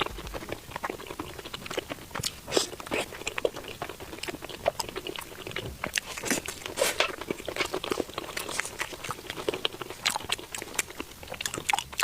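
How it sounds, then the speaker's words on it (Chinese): Crunchy fried banana is bitten and chewed close up, with dense, crisp crackling crunches repeating irregularly throughout and no talking. "每次吃炸香蕉都要感叹一下，炸香蕉真的太好吃了"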